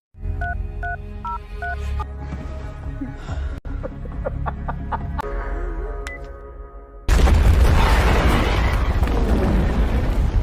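Phone keypad tones beep over a low rumble, then a sudden loud, broad blast from a phone-triggered bomb erupts and roars on, filling the space.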